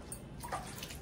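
Running water splashes gently as hands are washed under a tap, a faint, brief patter of water with a small surge midway.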